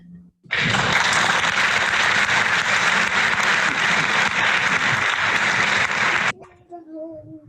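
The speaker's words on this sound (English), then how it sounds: "Can we give these ladies a round of applause virtually?" A burst of loud, dense applause at an online symposium starts abruptly and holds steady for several seconds, then cuts off sharply into quieter sound, suggesting a played applause effect rather than a live room.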